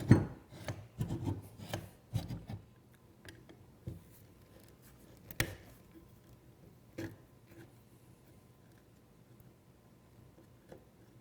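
Gritty grinding and rasping from the mechanism of a Triton Duo Dowel Joiner TDJ600 being turned by hand, with irregular scraping bursts that are strongest at first and thin out into faint scattered scrapes.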